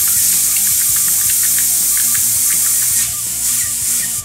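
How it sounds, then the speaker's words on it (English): An airbrush pulled back to backfeed paint into its color cup makes a steady close hiss, mixed with a rapid run of small bubbling pops and gurgles that soften near the end. "pulling back a little bit on the airbrush, and that'll get it to backfeed up into that color cup, which will cause it to bubble up inside"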